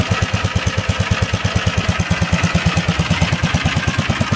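A 1947 Gravely walk-behind tractor engine runs steadily on its own, close and loud, with a fast, even chugging pulse and no talk over it.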